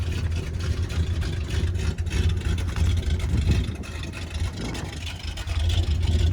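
A Travco L'Esprit motorhome's 440 V-8 big block engine idles in a steady, low, rough rumble, heard close and continuous with no one talking.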